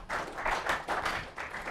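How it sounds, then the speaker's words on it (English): A small audience gives a short round of clapping for a guest at a networking presentation, a few uneven bursts of hand claps close by, light and brief, with no talk over them. "Let's give him a little clap."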